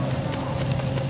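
Crackling, roaring fire engulfing a character in The Division's Dragons Nest incursion on hard mode, a steady close hiss and rumble with a low hum throughout.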